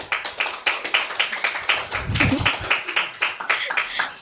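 A group claps again at a scout event, a steady run of quick hand claps over several seconds, with a brief murmur of voices midway.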